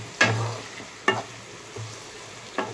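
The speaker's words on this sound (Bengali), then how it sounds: "পেঁয়াজ দিয়ে দিয়েছি, আর কয়েকটা ছেঁড়া কাঁচা লঙ্কা দিয়ে দিয়েছি।" Onions and torn green chillies fry in a pan with a few pinches of salt, a steady low sizzle broken by three or four sharp scraping stirs spaced about a second apart, with no talking.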